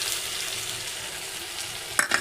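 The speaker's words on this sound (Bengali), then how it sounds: "মশলাটা দিয়ে ভালো করে একটু নাড়াচাড়া করে নিই, কষিয়ে নিই" Ground spice paste sizzles and is stirred in a pan over fried onions: a steady, fairly quiet frying hiss, with a short sharp scrape of the utensil near the end.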